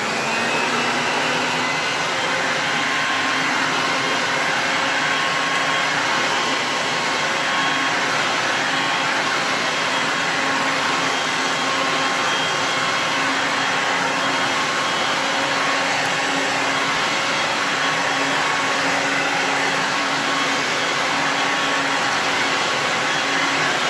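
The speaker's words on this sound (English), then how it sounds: "And there it is, the Shetland Sweeper vac." A Shetland Sweeper stick vacuum cleaner runs continuously with a loud, steady motor whine and rushing airflow, close by and unchanging throughout, with no talk.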